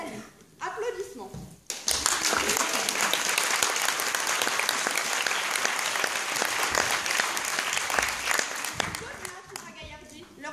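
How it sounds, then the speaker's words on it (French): Sustained applause from a theatre audience as the actors take their bows, loud and dense clapping running for several seconds after a brief stretch of speech, fading back toward talk at the end. "Les comédiens saluent. Applaudissements."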